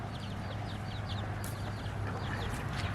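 Chickens clucking around a farm water dish meant for chicks, a steady overlapping chatter of soft clucks and short calls at moderate distance over a constant low background hum.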